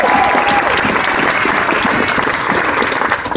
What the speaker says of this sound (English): I'd like everyone to do a round of applause for the wonderful step